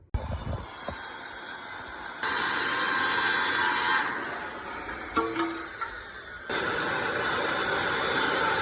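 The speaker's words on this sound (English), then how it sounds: "Now we're going to route the top of the awning and the size for 1 inch bend." A handheld router cuts through aluminum composite material (ACM) sheet while trimming a scrap-panel awning, with steady, loud whining bursts separated by quieter pauses.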